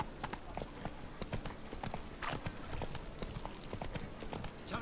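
Hooves of Roach, a horse in a video game, clip-clop at a steady galloping rhythm, close and continuous over a low background, with no talking.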